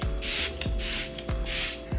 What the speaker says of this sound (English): now taking my Smashbox primer water, I'm just going to spray all of that